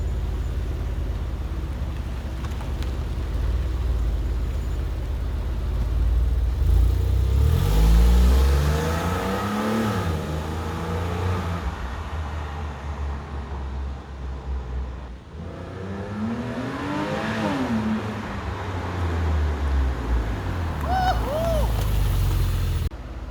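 A 2001 Porsche 911 Carrera 4 (996) on its stock exhaust revs twice, each engine sweep rising and falling in pitch over a steady mid-level idle, with a faint high whine near the end.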